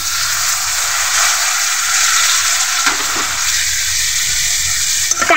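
Spotted snakehead fish hitting a pan of hot spice paste, giving a loud continuous sizzle and frying hiss with a few stirring scrapes near the end.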